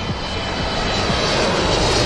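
Boeing 777 cargo jet landing at Amsterdam Schiphol in windy morning conditions, its engines producing a loud, steady roar with a broad rushing hiss that holds throughout, heard from nearby.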